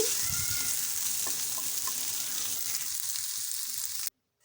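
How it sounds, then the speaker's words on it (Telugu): Chopped onions and green chillies fry in a little oil in a kadai on a stove, giving a continuous close sizzle with a few faint clinks, which cuts off abruptly near the end. "స్టవ్ మీద కడాయి పెట్టుకొని కాసింత ఆయిల్ వేసి అందులోకి ఆనియన్ ముక్కలు పచ్చిమిర్చి ముక్కలు వేసి కాసేపు ఫ్రై చేసుకోవాలి"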